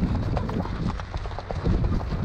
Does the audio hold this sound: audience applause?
no